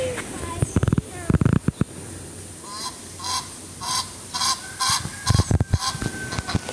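Repeated loud goose honks in bursts nearby at a zoo in Marechal Floriano, Brazil, several calls in quick succession, with people talking in between.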